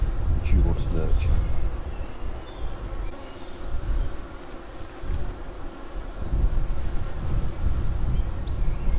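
Bees buzz steadily around beehives outdoors, with a nucleus hive among them, a dense low hum filling the scene with faint bird calls above and some talk in the background.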